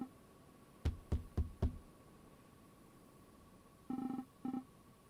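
Four sharp knocks on a house door in the video game Next of Kin, close and evenly spaced, followed a few seconds later by a short electronic ringing tone in two bursts over a steady hum.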